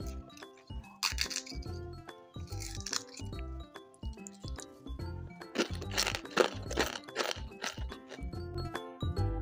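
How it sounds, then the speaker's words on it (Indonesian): Crisp homemade dry cookies crumble with repeated sharp crunches and crackles, close up and fairly quiet, coming in irregular bursts over nine seconds with no talking. "Kita coba dengerin kriuknya dulu ya."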